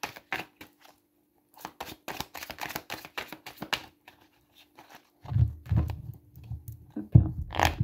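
A deck of tarot cards being shuffled up close, crisp riffling bursts in quick succession, a pause, then softer handling and rustling of the cards.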